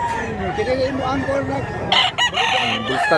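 A bullstag rooster at a poultry market crows in a drawn-out call, with other fowl clucking and people talking in the background nearby.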